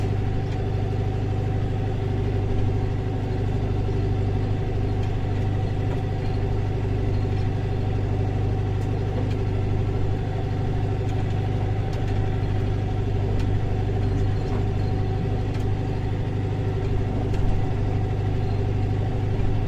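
A Massey Ferguson 5440 tractor drags a rotavator across a lumpy field while preparing ground for sugar beet, its engine a steady, close, unbroken drone with no change in pitch and no voices.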